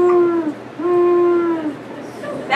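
A voice imitates the low, deep hoot of a great horned owl, giving two long hoots separated by a short pause, near and clear.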